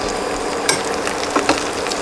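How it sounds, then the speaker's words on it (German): Cooked ravioli fry in a pan with butter and sage, giving a loud, continuous close sizzle with a few light scraping clicks from stirring. "Und die Ravioli, die gekochten, habe ich bereits in die Pfanne gegeben."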